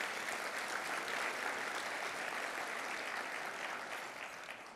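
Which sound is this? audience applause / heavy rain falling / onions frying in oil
audience applause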